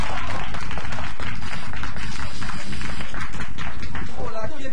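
Loud applause rattles through a crowd, mixed with voices and shouts over the clapping.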